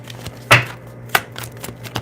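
Tarot cards being shuffled by hand, a few sharp riffling snaps at irregular intervals over a low steady hum, close and fairly loud.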